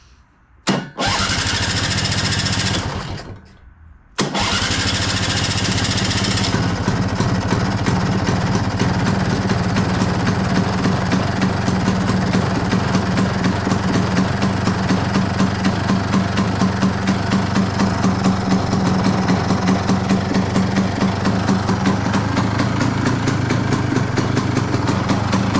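A Stella scooter's engine fires up on its electric starter after a brief cranking whir, then settles into a steady, loud, close idle with a regular mechanical chug that continues to the end.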